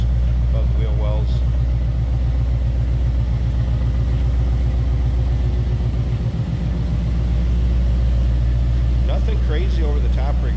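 A 1986 Chevrolet C10 pickup truck engine idles with a deep, steady rumble and rapid low pulsing, loud and close, while a voice speaks briefly near the start and end.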